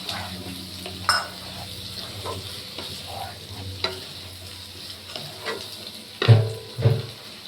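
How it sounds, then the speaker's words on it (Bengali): Gathi kochu (taro) tipped into a sizzling pan, a low steady frying hiss broken by scattered stirring knocks, with two louder clattering thumps near the end. "এবারে আমি এই গাঠি কচুটা ঢেলে দিচ্ছি"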